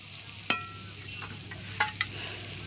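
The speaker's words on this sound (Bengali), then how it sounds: "দিয়ে মশলাটা ভালো করে কষে নেব।" A masala of onion paste, ginger-garlic paste, whole cumin and chopped tomato fries with a soft hiss, and a spatula stirs it with one sharp metallic scrape and two lighter ones close together later.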